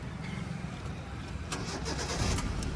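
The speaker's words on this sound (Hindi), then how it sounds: "तो आप क्लच दबाएंगे, इंजन स्टार्ट करेंगे" A manual car's engine cranks and catches after the clutch is pressed, then settles into a steady, fairly loud idle close by, with no talk over it.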